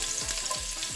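Garlic frying in a little oil in a pan for cassava soup, a steady close sizzle with faint crackles throughout, no voices.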